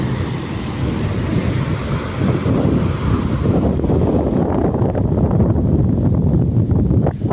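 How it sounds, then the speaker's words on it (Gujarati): Loud continuous wind buffeting the microphone at the seashore near Somnath, with the broad rushing wash of waves rolling in underneath. "મસ્ત વાયરો ઠંડો ઠંડો સારો આવો મોજાને લીધે"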